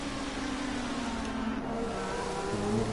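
GP2 race car engine at the Malaysian GP heard from the onboard camera, a steady high whining drone with slowly falling pitch, close and continuous with no talk.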